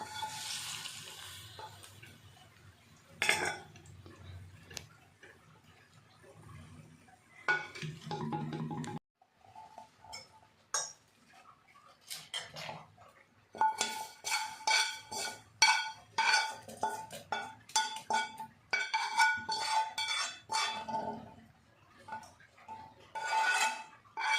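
Instant mango pickle is stirred with a hot tempering in a bowl: a spoon scrapes and clatters in irregular bursts, sparse at first, then a quick run of close, busy scraping strokes.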